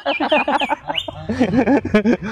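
Green leafbird (cucak ijo) singing in a rapid run of varied whistled and warbling chirps with quick pitch sweeps, close and clear with no talk.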